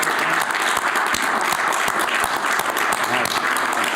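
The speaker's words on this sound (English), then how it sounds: "Mr. Speaker, we need to applaud you and thank you" Sustained applause from an audience at a congressional press conference honoring the Speaker of the House, dense steady clapping filling the room without letup.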